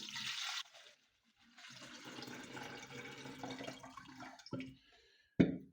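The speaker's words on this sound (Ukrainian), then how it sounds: "Виливаємо наш розведений мед в оприскувач." Diluted honey is poured into a garden sprayer, a short liquid pour and trickle with brief gaps, ending in a sharp plastic knock; fairly quiet and close.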